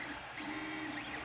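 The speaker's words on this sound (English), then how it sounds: "I'm very impressed with the amount of time that this printer prints reliably." Creality Ender 3 3D printer running a long print, its stepper motors whining in rising and falling sweeps over a steady mechanical hum, close and quiet.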